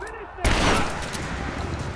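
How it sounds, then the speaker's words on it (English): Gunfire in the PC game Rise of the Tomb Raider: after a moment of quiet, a loud burst of shots erupts and gives way to a sustained, rattling exchange of fire, with a voice heard under the shooting. "We're under fire at the edge of the village"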